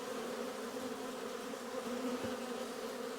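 Bees hum in a dense, continuous drone at an open hive during a spring inspection, faint and even throughout with no talking.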